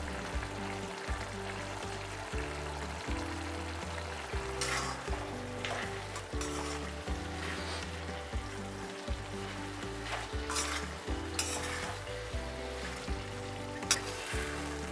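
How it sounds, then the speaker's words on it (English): Potatoes frying in a pan on high heat while cooking spinach potato curry, a steady loud sizzle with stirring scrapes and occasional sharper crackles throughout. "increase the heat and fry till all the excess moisture is removed"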